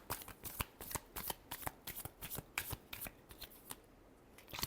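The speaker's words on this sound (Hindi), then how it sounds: "Last shuffle." Tarot cards shuffled by hand in quick, close riffling bursts, a steady run of crisp snaps and flutters with short pauses and no voices.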